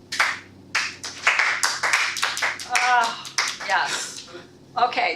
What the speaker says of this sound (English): That was an excellent rendition of incorrect low energy clapping.